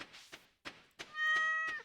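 A pet cat in the farming game Stardew Valley being petted: a few soft thumps, then one clear, close meow that rings out at the end.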